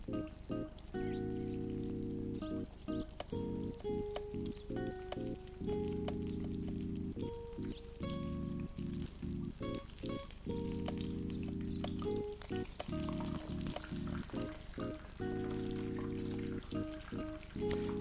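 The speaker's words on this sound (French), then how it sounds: "déposez toujours la nem côté donc cuisinier" Steady sizzling and crackling of chicken spring rolls frying in hot oil in a pan, continuous and close, with faint bubbling pops.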